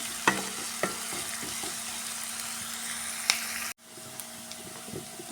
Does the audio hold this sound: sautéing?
yes